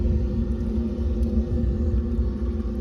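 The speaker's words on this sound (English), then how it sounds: "you can hear the fan now because the bypass is open." A HeatMaster G Series furnace fan runs with the smoke bypass open, a constant low droning rumble, steady and unbroken throughout.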